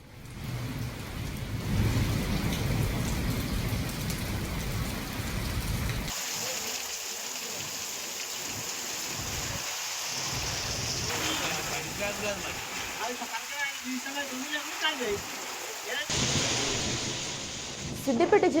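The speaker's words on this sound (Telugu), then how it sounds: "ఉరుములు, మెరుపులతో కూడిన చిరుజల్లులు కురిశాయి" Heavy rain pours with thunder during a storm in Telangana, a dense roar that shifts in tone across several stretches, under a narrator's voice talking almost throughout.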